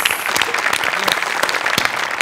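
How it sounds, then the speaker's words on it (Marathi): A studio audience at a Marathi comedy show applauds the writer of a skit, giving dense, loud clapping that rises and falls in uneven bursts for a couple of seconds. "त्यांच्यासाठी टाळ्या वाजवायला पाहिजे"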